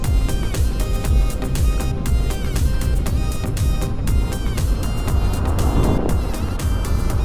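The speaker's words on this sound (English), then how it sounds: "I love it when cars come past you" A car passes close by a moving e-bike rider, its engine and tyre roar swelling over steady wind and road noise, loud and near, with no talking.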